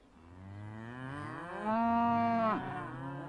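A long, deep moo from a cow, swelling louder in the middle before trailing off, fairly close with no other sounds.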